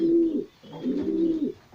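Domestic pigeons in a loft coo up close in two soft, throaty rolling calls separated by a brief pause, with no talking.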